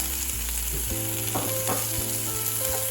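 Masala for chicken biryani sizzles steadily in a hot pan as fresh mint leaves are stirred through it, with a continuous frying crackle and a few soft scraping stirs rising above it.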